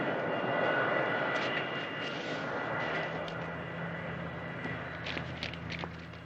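Steady airplane engine drone fills the scene, a continuous mid-level roar with faint scuffing and clicks layered over it toward the end; no one speaks.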